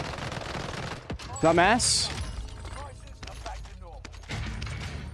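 In a Call of Duty Warzone match, rapid bursts of automatic gunfire crackle in close succession, with a sharp loud volley near the middle. A player talks over the shooting.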